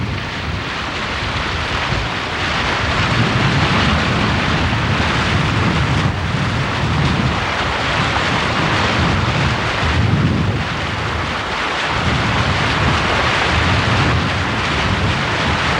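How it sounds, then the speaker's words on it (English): A loud, steady drone from a boat's generator engine during electrofishing runs throughout, rumbling low with a broad roar on top, rising and easing slightly every few seconds. "If you listen to the engine or the generator, you can tell when he's getting ready to shock."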